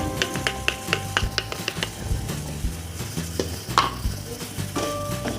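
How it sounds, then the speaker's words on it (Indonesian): Boiling satay peanut sauce with sambal, blended peanuts and lime leaves is stirred in a pan, giving repeated close scraping and knocking utensil sounds with a bubbling simmer underneath. "Ini kita aduk-aduk aja."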